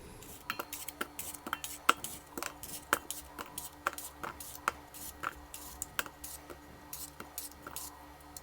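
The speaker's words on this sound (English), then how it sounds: "we're going to start by slicing our apples and getting rid of the core" A knife slices apples and cuts out their cores, giving a steady series of crisp, fairly quiet taps and clicks at close range with no talk.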